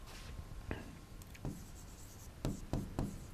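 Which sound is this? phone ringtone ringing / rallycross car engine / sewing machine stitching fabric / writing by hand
writing by hand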